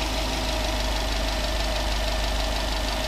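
A 2014 Subaru Impreza WRX with a 2.5-liter turbo boxer engine idles steadily, a constant close rumble with a faint ticking texture and no talking.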